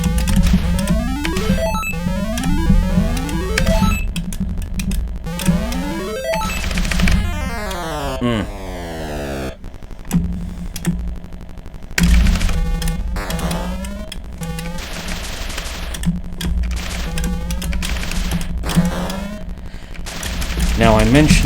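Rapid electronic zaps and descending laser-like blips from shooting in the 1983 Atari 2600 game Beany Bopper, firing in quick repeated bursts with sweeping pitch glides, loud and continuous over a low steady hum.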